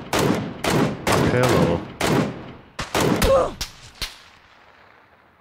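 Gunshots in a PlayerUnknown's Battlegrounds match: several close, sharp volleys, then a few isolated shots that fade into silence. A voice says a single short word among them.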